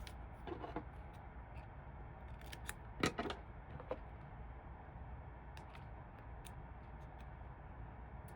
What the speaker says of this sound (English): So snip and cut just like this.